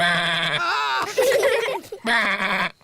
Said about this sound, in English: The sheep said, "Bah."